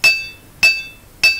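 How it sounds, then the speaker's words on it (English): Three ringing hammer blows on the cutting edge of an iron dagger held against the edge of an anvil, evenly spaced, loud and metallic, each with a short bright ring. "we're lining the edge up against the edge of the anvil and doing glancing blows"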